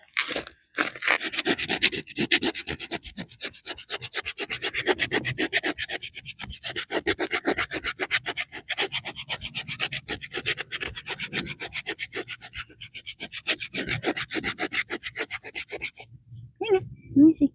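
A hoof rasp files steadily across a goat's hoof during trimming, a long run of fast, close, scratchy strokes that continues almost without pause, with a brief quiet patch near the end.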